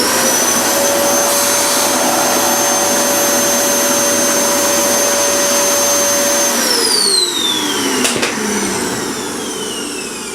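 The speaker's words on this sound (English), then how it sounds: "just get the hoover" A hoover runs loud and steady, drawing fishing line through a model aircraft during control cable installation, its whine holding constant before dropping in pitch as the motor winds down near the end.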